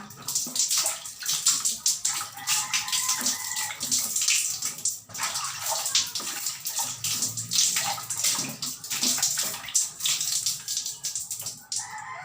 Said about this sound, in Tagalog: kaya banlawan ko na